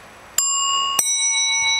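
Two bright metallic rings of a bicycle bell, the second striking about half a second after the first, each ringing on and slowly fading.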